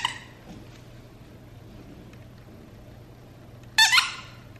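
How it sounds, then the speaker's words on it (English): A small goose-shaped squeaky toy chased by a puppy, heard as a faint squeak at the start and then a loud, sharp burst of rapid squeaks near the end, close by, with quiet room noise between. "chasing the little squeaky sounds"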